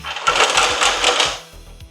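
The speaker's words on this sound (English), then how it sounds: "They'll hopefully screw into this galvanized steel." Loud, rapid ratcheting whir of self-drilling screws being driven into a galvanized steel garage door, coming in several short bursts with brief pauses between them.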